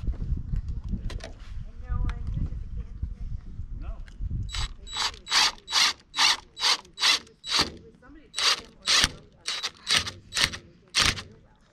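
A ratchet cranks to fasten a board on a skoolie bus roof deck, first a low rumble and a voice, then a rapid run of about a dozen loud, evenly spaced clicking strokes close by.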